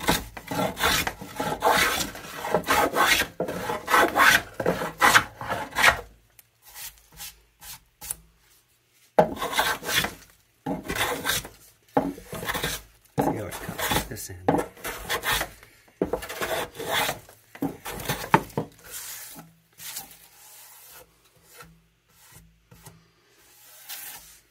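A hand plane shaves across the end of a wooden board in repeated rasping strokes. Each pass is a close, gritty scrape separated by short pauses, and the strokes grow shorter and choppier toward the end.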